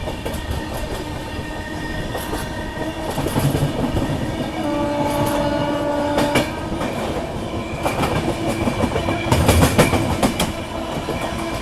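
An Amrit Bharat Express train passes close by, heard from a neighbouring train during a crossing on an Indian railway line: a steady roar and rhythmic clatter of wheels, with a loud sustained horn blast midway.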